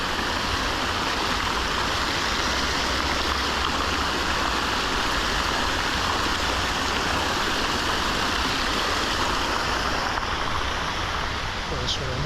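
Fountains splash outside the National Library of Uzbekistan, a steady, dense rush of falling water holding close and loud from start to finish, with faint voices in the background.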